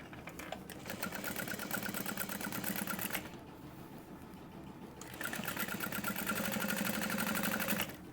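A sewing machine stitches a 2.5 inch quilting line on a quilted trick-or-treat bag, a fast steady mechanical whir that pauses briefly for a second or two, then resumes at the same even pace.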